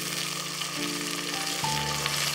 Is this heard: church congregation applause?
no